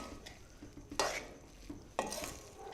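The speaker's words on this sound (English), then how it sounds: "So make sure to stir this continuously bottom to top." Boondi being stirred through sugar syrup for laddu, a spoon scraping in steady strokes with two sharper clinks against the pan over a soft background wash, close and moderately loud.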